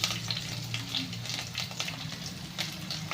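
Curry leaves and green chilies crackle and roast in a hot pan for a chili-potato dish, a steady close sizzle with scattered sharp pops throughout.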